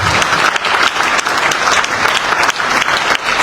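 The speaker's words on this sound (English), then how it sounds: "please give them a very big hand of applause" Dense, loud applause from an audience at the official launch of the Executive Mansion Communication Internship, steady rapid clapping filling the whole stretch without any speech.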